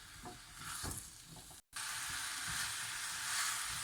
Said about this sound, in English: So our vegetables have been cooking for about 3 to 4 minutes